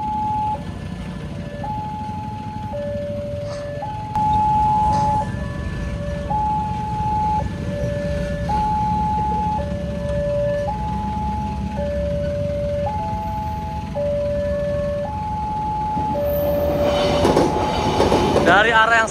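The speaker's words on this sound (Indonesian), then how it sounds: "Ada kereta lagi nih" A train passes the Taman Kota railway level crossing in Jakarta, with a two-tone crossing bell chiming steadily over a continuous rumble of rolling stock. A brief wheel squeal rises near the end.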